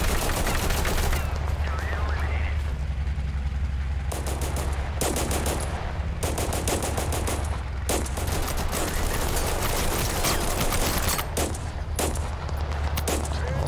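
Rapid automatic gunfire from the video game Total Conflict: Resistance rattles in long bursts with brief gaps, over a constant low rumble of battlefield background.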